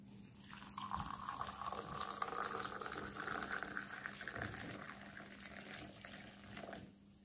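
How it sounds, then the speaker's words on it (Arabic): Boiling water pours steadily into a cup to brew plain tea, a continuous liquid fill sound with a rising gurgle, close and moderately loud, with no talking. "فهنبدا كده نحط عليه الميه المغليه كأني بحضر كوبايه شاي عاديه خالص بالشكل ده كده"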